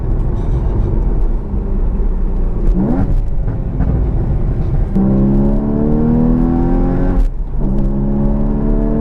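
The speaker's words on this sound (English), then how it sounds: "if I turn the exhaust mode on, there's a lot more overrun, and that exhaust button for me is the best part about this car" A Porsche Cayman GTS with its exhaust mode switched on rumbles through engine overrun, the note rising and falling with a few crackly pops along the way.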